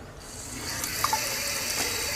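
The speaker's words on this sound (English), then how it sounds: "when you're running your paper under the water" Tap water runs steadily into a sink as watercolor paper is held under the stream, a continuous close splashing wash with a couple of brief drips, no voices.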